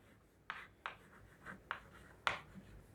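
Numbers are written by hand on a quiet surface, giving five short, faint scratchy pen or chalk strokes spaced about every half second, with no talking.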